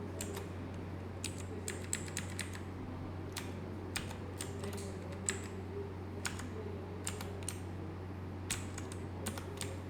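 Steady typing on a computer keyboard with many buttons, a stiff, heavy-feeling board, as a run of crisp close key clicks in irregular bursts over a constant low hum, no voices.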